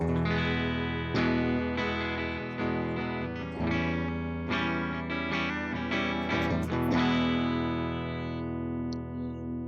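Electric guitar plays a string of bright, clean-edged chords and single notes through a Universal Audio UAFX amplifier pedal in brilliant mode, with a shimmering, chorus-like sheen and a long ringing tail.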